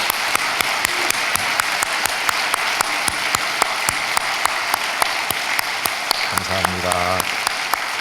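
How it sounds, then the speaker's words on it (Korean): A church congregation applauds teenagers who played instruments at an early-morning service. Steady clapping fills the room throughout, and a brief tone or voice rises near the end. "우리 뜨거운 박수를 한번 보내주세요."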